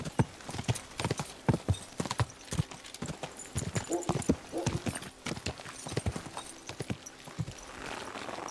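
Horse hooves clip-clop in a steady trotting rhythm, loud and close, in the medieval game Kingdom Come: Deliverance II, with a brief whinny and some background voices late in the passage.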